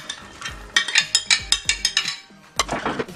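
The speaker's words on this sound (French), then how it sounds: "Et puis 6 œufs. Et ensuite nous allons mélanger." A whisk beats six eggs in a bowl for an oven omelette terrine, a steady series of about ten quick clinking strokes against the bowl, close and fairly loud, then a brief pause and a busier, scraping burst of mixing.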